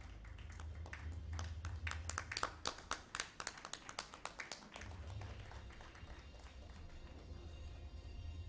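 An audience claps for Captain Rupinder Kaur on stage at a women's leadership evening event; a few seconds of scattered, distinct hand claps rise to a brief peak and fade, fairly faint, over a low background hum.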